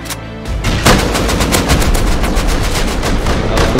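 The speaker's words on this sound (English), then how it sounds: "Who's shooting me?" Rapid, sustained gunfire from the survival video game Rust fills the whole stretch after a brief quieter opening, loud and dense bursts overlapping with no pauses.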